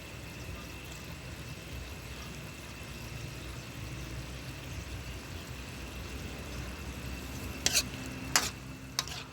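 Grouper fish and carrots frying and simmering in escabeche sauce, a steady sizzle running throughout, with a few sharp clatters of utensils near the end.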